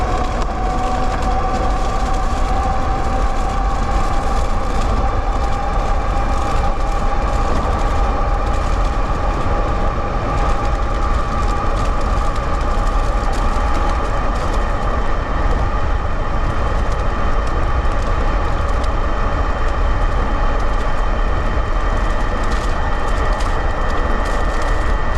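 A Tesway X9 AWD e-bike with 4000W peak dual motors and a 48V 30Ah battery, ridden on throttle at pedal assist 5, gives a faint steady motor whine under a loud, constant rush of wind.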